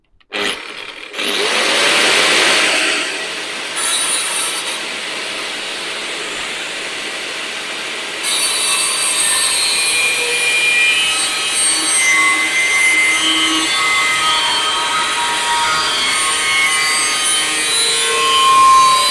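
A small piece of mild steel being cut out as a patch for a Jeep Cherokee Liberty KJ chassis repair, a loud continuous grinding, rasping cut that runs nearly throughout, close up with no talk.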